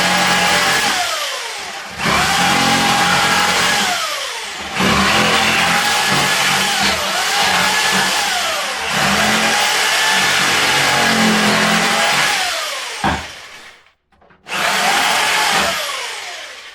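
A power jigsaw cutting out pieces of wood during a kitchen alteration, buzzing loud and close in long sustained bursts with brief pauses between cuts.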